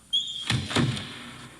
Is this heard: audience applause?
no